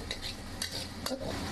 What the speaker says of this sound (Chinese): 锅中呢再加上猪油，下入姜片、大蒜子炒香。